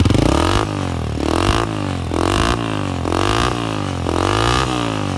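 A modified 2001 Honda 125 motorcycle with an aftermarket exhaust revs repeatedly, its engine note rising and falling in several loud, close surges, while someone speaks briefly over the start.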